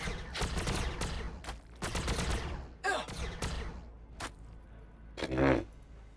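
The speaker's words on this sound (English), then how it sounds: "We're taking fire." Rapid gunfire in the Warhammer 40K Battlesector video game: repeated bursts of shots cracking in clusters, loud and close, with a final heavier blast near the end.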